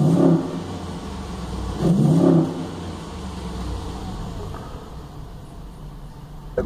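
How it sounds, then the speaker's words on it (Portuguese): Close V8 car engine idling with a deep rumble, revved twice in short bursts that swell and drop back to a steady throaty idle. "O V8 é um ronco gostoso"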